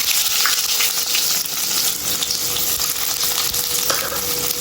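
Onions drop into a spoonful of hot oil with garam masala, producing a dense, steady, close frying hiss that stays loud throughout without talk.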